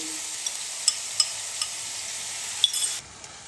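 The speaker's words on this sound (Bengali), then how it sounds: "তেলটা গরম হয়ে গেছে, বেশ খানিকটা পেঁয়াজ কুচিয়ে আমি দিয়ে দিলাম" Chopped onion fries in hot white oil with a steady, bright, close sizzle, broken by a few faint clinks of a spatula, before the hiss suddenly drops off near the end.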